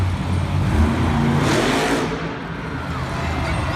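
The Stone Crusher monster truck's engine revs hard during a sky wheelie at a Monster Jam arena show in Raleigh, a loud continuous roar that swells and eases against heavy crowd noise.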